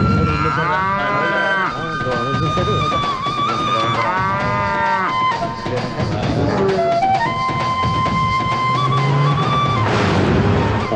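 Calves and cattle mooing repeatedly in a rural village setting, long drawn-out bellows overlapping one another, loud and close over a steady background of music.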